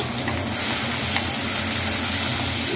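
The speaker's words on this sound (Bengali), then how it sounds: "আবারও নাড়িয়ে চাড়িয়ে নেব। লাল করে ভাজা হয়ে গেছে" Continuous loud sizzling of chopped tomato and salt frying in a pan, with faint scraping as the food is stirred, no voices.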